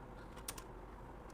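A few soft keystrokes on a computer keyboard, faint and brief clicks against a quiet room hum, no talk.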